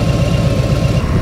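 A Harley-Davidson Tri Glide M8 engine fitted with a Rekluse clutch runs close and loud, a steady low rumbling throb without pause.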